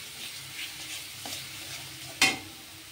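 Masala for a watermelon-rind curry sautés in a pan with a soft low sizzle, broken by a couple of spatula scrapes and one sharp metallic clack near the end; no speech.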